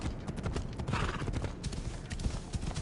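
Horse galloping in the video game Assassin's Creed Odyssey, a steady rapid clip-clop of hooves with an occasional faint whinny, loud and continuous for a few seconds.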